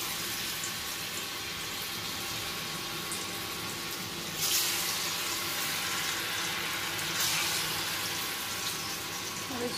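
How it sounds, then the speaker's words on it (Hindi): Besan pieces fry in hot oil with a steady, bright sizzle and crackle, close and continuous, swelling briefly twice as pieces are stirred or added. "इसमें पूरा अच्छा से तेल देना होगा और इसको फ्राई करके, मतलब रेड करके इसको एक एक करके निकालेंगे"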